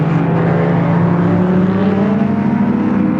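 A 1973 Ford Falcon GTHO touring car races at Warwick Farm with another car close behind, a loud, steady engine roar holding at a constant pitch throughout.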